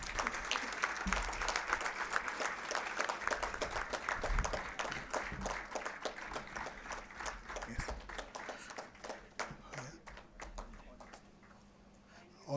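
A seminar audience rises to applaud a guest speaker: dense, crisp clapping from a crowd, fairly close and steady for most of the stretch, gradually thinning and fading toward the end.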